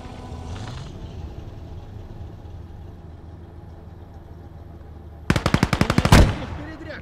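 A quick burst of machine-gun fire in the World War II game Call to Arms – Gates of Hell: Ostfront, a rapid string of about a dozen loud shots after quieter engine-like rumble and background battle noise.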